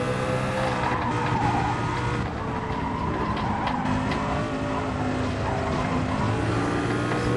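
Race car in the game Gran Turismo Sport at the Nürburgring, a loud, sustained engine drone with tire squeal and scrubbing as the car slides and is caught, steady and close for the whole stretch.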